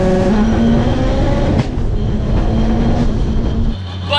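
900HP Mitsubishi Evo accelerating hard from a rolling launch, a loud in-cabin engine roar with rising gear tones, a brief shift dip, then fading as a voice speaks at the end.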